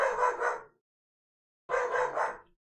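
A dog barks in two short bursts of double barks separated by about a second of silence, fairly close and clear, with no other sounds.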